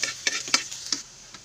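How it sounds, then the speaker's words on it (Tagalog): Garlic sautés in cooking oil as a soft hiss under a few quick stirring taps and scrapes of a utensil in the pan, close and quiet, fading out in the final half second. "Lalagay muna ako ng mantika. Bawang, lalagay ko ng bawang."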